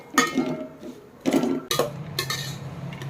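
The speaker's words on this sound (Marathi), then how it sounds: "हे सगळं खोबरं हे मस्त जरा लालसर होईपर्यंत आपल्याला भाजायचं आहे खोबरं" Grated dry coconut stirred while roasting in a pan, with scraping and clattering strokes against the metal in a few distinct bursts and a low background hum between them.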